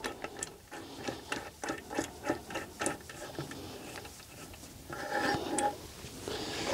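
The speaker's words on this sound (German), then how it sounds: "Wir nehmen jetzt dieses wunderschöne Casa Performance Werkzeug, setzen das an. Wir schrauben das jetzt einmal komplett in die Kurbelwelle." A Casa Performance tool is screwed fully into a Lambretta RT195 crankshaft, giving a series of close, small metallic ticks and scraping clicks in an irregular rhythm, with a rougher grinding rub near the end.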